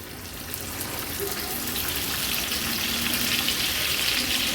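Goat brain frying in hot oil in a pan gives a steady, loud sizzle that stays dense and even the whole time, with no one speaking.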